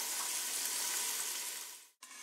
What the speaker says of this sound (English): we're going to let this sizzle and pop